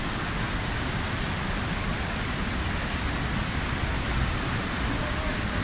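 The Palovit waterfall roars as a dense, steady wash of falling water, loud and unbroken throughout without any distinct breaks.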